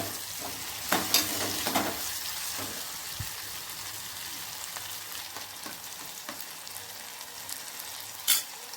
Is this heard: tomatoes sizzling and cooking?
yes